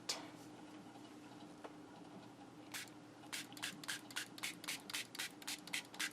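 Spray bottle squirted repeatedly over wet Winsor and Newton watercolor paint, a quick series of about a dozen sharp hissing bursts in a steady rhythm, close and fairly loud after a quiet start with a faint hum.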